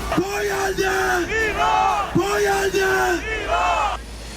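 Protesters in the streets of London shout in unison, rhythmic chanted calls from a large crowd repeating in bursts, loud and close with the din of the gathering underneath.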